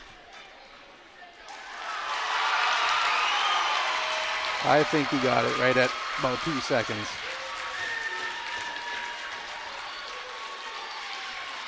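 A crowd at a high school varsity wrestling match against Devils Lake roars and applauds after a last-second takedown, swelling loudly then holding steady, with a commentator talking over it and a few sharp bangs midway.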